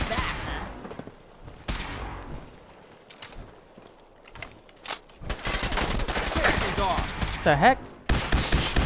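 Handmade rifles firing in Fallout 4 at Nuka-World: scattered single shots early, then a loud, dense stretch of rapid automatic fire. A brief spoken exclamation is heard over it.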